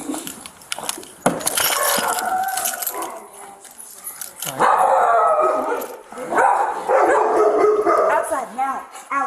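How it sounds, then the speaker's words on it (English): Several dogs bark, yip and howl loudly close by at a house during a police visit, in bursts that overlap with people talking. "They're friendly, they just bark."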